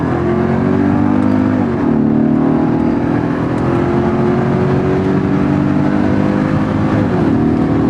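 A healthy project car's engine runs steadily and loud close by, its idle hum lifting briefly in a couple of light revs with no talk over it.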